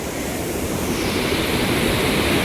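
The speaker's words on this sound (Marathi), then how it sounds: "खालीच जी व्यास नदी आहे ती बी पूर्ण व्हायला लागली पावसाचं पाणी खूप जास्त आहे" The Beas river, swollen with rainwater near Manali, roars in a steady, loud, unbroken rush of fast-flowing water that fills the whole clip with no pauses.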